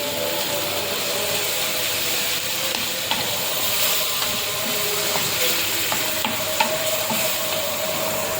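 Tamarind water hits a hot frying pan while cooking a Kerala brinjal curry, giving a steady loud sizzle and hiss throughout with faint stirring clicks and no talking.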